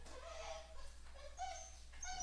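A dog gives a string of high, whiny yelps and whimpers, close by and fairly quiet, in short bursts over a low background hum.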